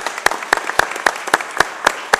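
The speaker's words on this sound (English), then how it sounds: "A big round of applause for them." Applause for newly married couples sounds as a thin spread of claps: a handful of sharp, evenly spaced hand claps over a soft background patter, fairly close, with no talking.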